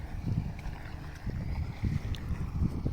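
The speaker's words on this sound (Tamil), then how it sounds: "அப்போது ஒரு படகு நம்மளை சந்திக்க வருகிறது" A low, rumbling fishing boat engine churns steadily at sea, with wind buffeting across the microphone and no voices.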